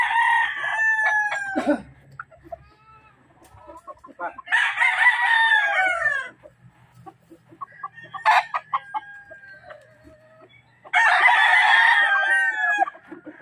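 Roosters crow loudly in long drawn-out calls, three separate crows spaced apart, with softer clucking and scattered chicken noises in between.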